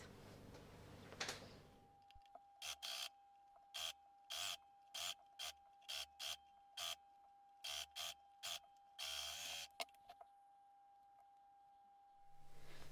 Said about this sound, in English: I'm going to overlock them on now